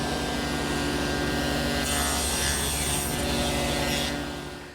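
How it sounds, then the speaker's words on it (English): A table saw cutting tenon cheeks in a wooden rail held vertically in a tenoning jig, a loud steady motor hum with the blade's cutting noise rising midway and then the motor winding down. "the best tool for that is my tenoning jig, because that holds the piece safely in a vertical position as I run it through the saw"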